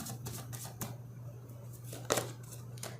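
Tarot cards being shuffled and laid out at a reading, giving quick papery flicks and taps, a few brisk slaps and one sharper snap near the end, close against a low steady hum.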